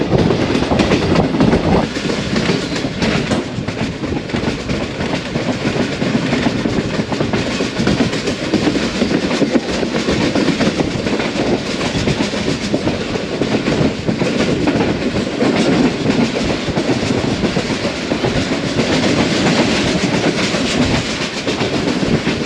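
The 14DN Awam Express runs from Peshawar to Lahore through tunnels in the Margalla hills, making a loud, steady rumble with continuous wheel and carriage noise close by. No one speaks.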